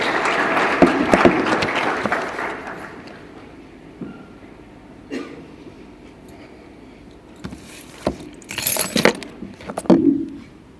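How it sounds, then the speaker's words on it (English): Applause from the audience at the annual general meeting of the Ethiopian Society of Orthopedics and Traumatology fills the first couple of seconds and then fades, followed by scattered clinks and knocks in a quiet hall. "Give him a round of applause."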